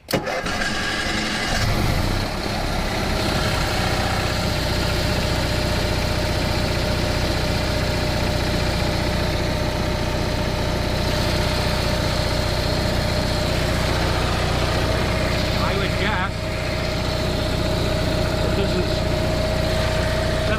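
An Onan generator engine fires up after a brief moment and then runs at a loud, steady, unbroken drone for the rest of the clip.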